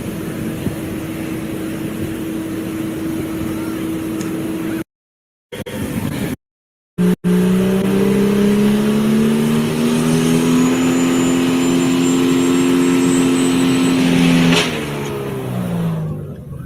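Race cars on an oval track rev and drone past, a sustained engine tone rising and falling in pitch as they circle, with a couple of short dropouts early on.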